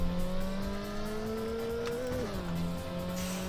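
A race car engine in a video game holds a steady buzzing tone, then shifts down in pitch as it changes gear, with faint tire noise underneath.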